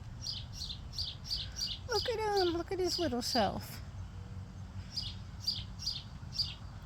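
A small bird chirps outdoors in short, evenly spaced high tweets, fairly faint, pausing while a person speaks briefly in the middle and then resuming.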